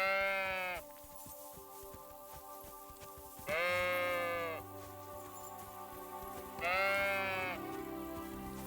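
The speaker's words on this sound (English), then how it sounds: "Chase the sheep out of the pasture." Sheep bleat in the video game Kingdom Come: Deliverance II while being chased out of a pasture: three loud, close, wavering bleats spaced a few seconds apart, separated by quieter game ambience.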